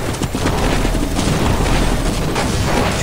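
Heavy booming blasts and rumbling from a grenade explosion in a Half-Life shooter, loud and close, with scattered crackling bursts running throughout and no talking.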